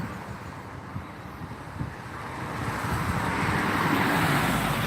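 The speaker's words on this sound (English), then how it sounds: "There's a lot of traffic here on Route 6." Steady road traffic on Route 6 in Carmel, New York, with cars passing close by and a broadband wash that builds louder toward the end, mixed with some wind rumble and no talking.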